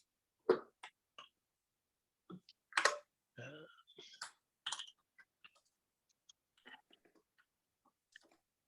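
Scattered clicks of someone typing on a computer keyboard during an online meeting, sparse and irregular keystrokes in short bursts with pauses, fairly quiet.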